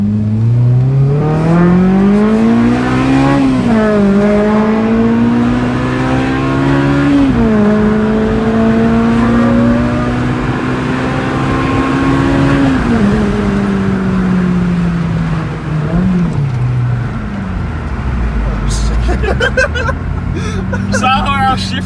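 A Honda Civic FA5 revved hard on a test drive, the engine climbing repeatedly through the gears with rising whines and brief dips at each shift, loud and close, with people talking over it.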